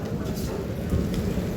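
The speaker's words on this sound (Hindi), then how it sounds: "और बारिश तो काफ़ी ज़्यादा हो रही है" Heavy rain pours down in a residential lane, a dense, steady roar that is loud and close for the whole moment.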